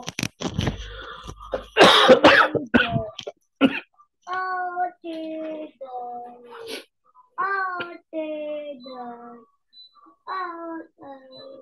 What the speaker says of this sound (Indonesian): sekarang batuk-batuk terus